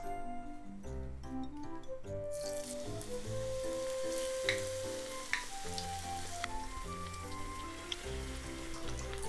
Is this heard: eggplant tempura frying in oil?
yes